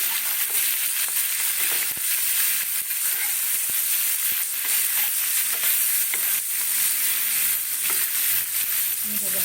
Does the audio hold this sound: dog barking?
no